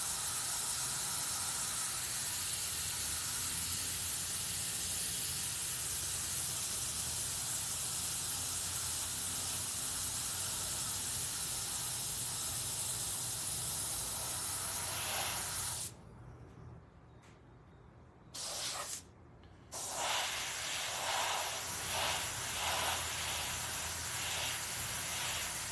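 An airbrush spraying paint gives a long, steady, close hiss, broken near the end by a couple of short pauses and brief restarts, with no voices.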